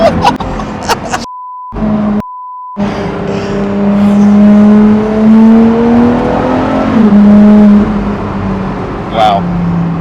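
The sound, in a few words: supercar engine revving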